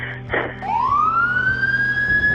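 A wailing ambulance siren rises in pitch and holds a steady high tone, loud and close, after a brief burst of noise at the start.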